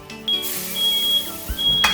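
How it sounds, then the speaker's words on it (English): Shrill high electronic smoke alarm beeps sound in bursts, one sustained tone and then several shorter ones, over a kitchen background with a brief clatter. "the smoke alarm went off."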